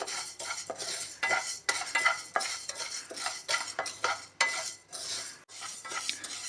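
Moong dal being dry-roasted in a pan without oil, heard as repeated scraping and stirring strokes of a utensil against the pan in an irregular rhythm, close and moderately quiet, with no talking.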